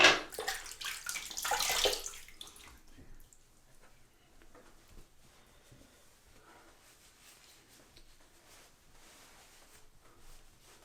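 Water gushes from a tap loudly for about two seconds while a razor is rinsed after a shave, then drops to faint trickling and quiet handling noises for the rest.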